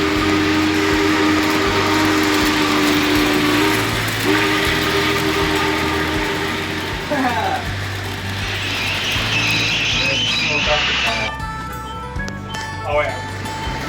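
Model trains rumble along a home layout with a steady rolling drone, while horn-like tones sound several times and people chat nearby.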